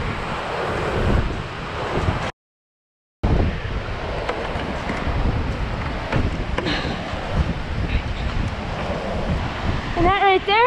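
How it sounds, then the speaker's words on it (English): Strong wind buffets the microphone on North Manitou Island, a loud gusting roar that drops out briefly, with faint voices mixed in under the noise. "A bit windy, probably couldn't hear us that well"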